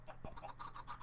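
Minecraft chickens give a soft run of short, repeated clucks over a faint steady background, quiet and without voices.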